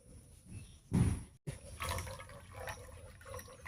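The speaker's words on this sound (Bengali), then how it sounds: "জল পাল্টে পাল্টে কচু শাকটা কয়েকবার করে ধুয়ে নিলাম।" Taro leaves (kochu shak) are washed in a basin of water, a soft close splash and slosh followed by gentle trickling and dripping as the leaves are moved about.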